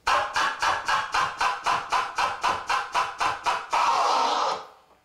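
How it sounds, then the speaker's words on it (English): Rhythmic record scratching chopped into about a dozen even, sharp bursts by quick fader cuts, followed by one longer unbroken scratch that fades out. "You're simultaneously moving the fader and the vinyl to create a cutting sound."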